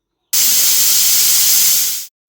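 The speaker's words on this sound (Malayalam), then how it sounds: "നമുക്ക് കുക്കറിൽ ഒരു 2-3 വിസിൽ വരെ വേവിച്ചെടുക്കാം" A pressure cooker holding a vegetable curry lets off steam in one loud, continuous hiss lasting almost two seconds, starting abruptly and fading quickly, heard close and alone.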